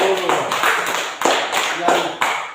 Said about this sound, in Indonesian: Mari kita tepuk tangan untuk kelompok 1 dulu.